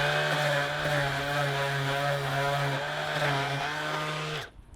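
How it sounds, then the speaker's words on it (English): A steady, droning orbital sander whine on wood with a constant motor tone runs for several seconds, then cuts off abruptly near the end. "So we're just going to get an orbital sander."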